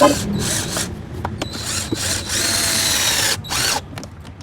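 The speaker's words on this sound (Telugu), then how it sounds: "నేను స్క్రూ మిషన్ అయితే యూజ్ చేస్తున్నాను, కరెక్ట్ కావాలి కాబట్టి." An electric screw machine drives screws into a kids' electric car, whirring loudly up close in several bursts with short pauses between runs.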